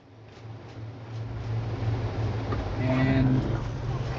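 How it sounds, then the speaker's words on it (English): A sheep in ARK: Survival Ascended lets out a tonal bleat midway through, heard over a steady low rumble of ambient game noise at an island base. "Sheep."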